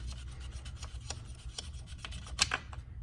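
An air/oil separator cap on a Fiat 500 Abarth 1.4 turbo engine is unscrewed by hand, making a close, steady series of quiet plastic-on-plastic rubbing and ratcheting scrapes with one brighter click near the end.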